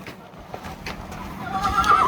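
A horse neighs at an equestrian competition show ground, a rising whinny building toward the end over a busy outdoor background with faint hoof clatter.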